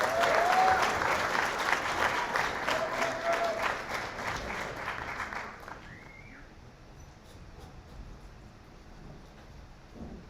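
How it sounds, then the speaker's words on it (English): A startup demo day audience claps loudly and steadily for a few seconds, with a few whistles, before the applause fades quickly into quiet room tone. "please give a huge round of applause to the last venture of the night"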